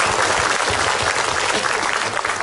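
A group bursts into brief, dense applause, loud and close, lasting a couple of seconds with no voices over it.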